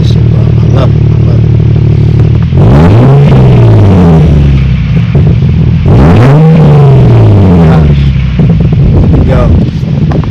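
A car fitted with an ISR single exit exhaust idles loudly and close, then revs twice in rising and falling sweeps that roar and crackle before settling back to a rumbling idle.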